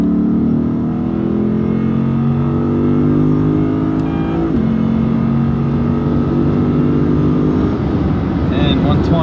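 Lexus IS F with its 2UR-GSE V8 accelerating on a highway, a loud, steady engine drone rising in pitch through the gears, with a brief dip at a shift and road noise underneath.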